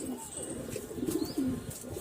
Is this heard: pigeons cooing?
yes